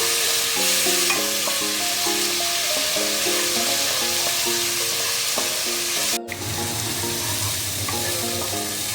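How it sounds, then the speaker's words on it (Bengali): Spices with chilli powder, turmeric and sugar frying in hot oil, a dense continuous sizzle with stirring scrapes throughout and a brief break near the end, no voices. "স্বাদ মতো একটু চিনি দিয়ে দেবো, দিয়ে ভালো করে কষিয়ে নেব।"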